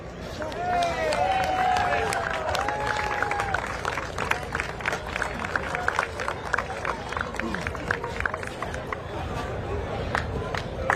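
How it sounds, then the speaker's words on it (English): A crowd gives loud, sustained applause for Valiente, the 2023 C.V. Whitney Cup polo winners. It fills the whole stretch as dense clapping with cheers and babble, and voices rise above it near the start. "Big round of applause."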